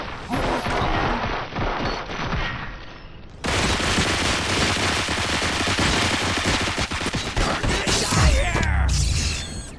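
Rapid bursts of automatic gunfire and heavy weapon shots in the shooter game Robocop: Rogue City, loud and dense throughout, with a brief lull before a sustained barrage of fire and impacts.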